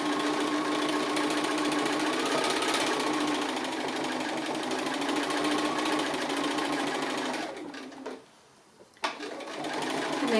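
A sewing machine runs steadily, stitching around the edges of a fused dog applique, a continuous close mechanical whirr that cuts out briefly near the end and then starts again.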